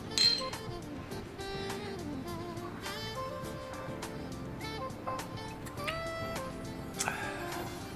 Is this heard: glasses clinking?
yes